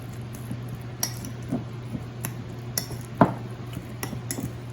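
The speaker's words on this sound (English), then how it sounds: "Give that a good stir." A utensil stirs salsa and kosher salt through a dish, giving a few light clinks and scrapes against the bowl over a low steady background hum, with one sharper knock partway through.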